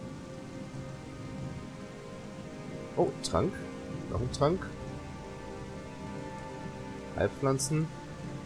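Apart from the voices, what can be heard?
rain in the video game Gothic 2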